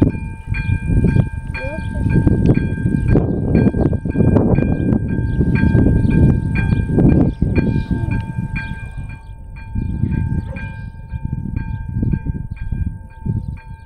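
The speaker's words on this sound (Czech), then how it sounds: "protože pojede vlak" A train rumbles loudly past the AŽD 97 railway level crossing at Náměšť na Hané, heavy low rolling noise for most of the clip while the crossing's warning bell tone rings steadily and repeatedly throughout.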